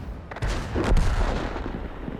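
In World of Tanks, the Strv M/42 tank's main gun fires with a single heavy boom followed by a rolling rumble, loud and close, with no talk over it.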